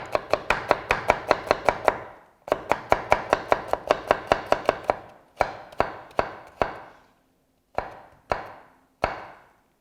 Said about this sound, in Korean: 자, 이렇게 해서 당근도 썰어 주시고요.